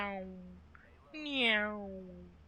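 A voice imitates a cat meowing, giving two drawn-out nasal meows close to the microphone over a quiet background hum from a Steel Division wartime strategy game.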